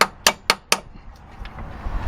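Four sharp metallic taps on transmission bolts with a T40 tool, in quick, even succession, close and loud, followed by quiet room noise.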